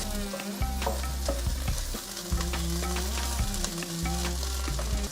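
Softened onions with chopped ginger and garlic frying in a pan for home-style chicken curry, a steady sizzle under repeated stirring scrapes, fairly quiet and close, with no speech.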